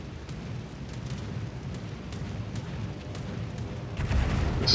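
Naval guns fire high-explosive shells in World of Warships, a run of evenly spaced muffled booms over a low rumbling roar, closing on a louder, nearer blast, with no talk.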